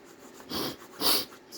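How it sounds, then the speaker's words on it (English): Two short, breathy nasal sniffles about half a second apart, close and fairly quiet, with a hiss of air and no talking, during a paper craft session. "Sniffles, sniffles. Always with the sniffles."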